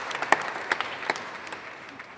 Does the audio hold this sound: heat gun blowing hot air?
no